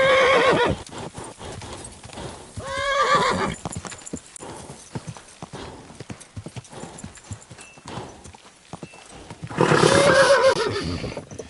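A horse in the medieval video game Kingdom Come: Deliverance gallops with rapid clip-clop hoofbeats, whinnying loudly near the start and again at the end, with hooves pounding steadily in between.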